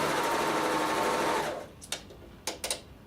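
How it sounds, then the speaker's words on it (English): A 4-thread overlocker sewing a rolled hem seam runs in a fast steady whir for about a second and a half, then stops, followed by a few small mechanical clicks. "now I can fold and I can actually overlock and sew my seam in one action"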